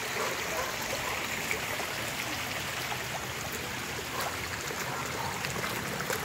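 Steady rushing water flows continuously, a loud broadband gush with no talking, like runoff pouring through a channel.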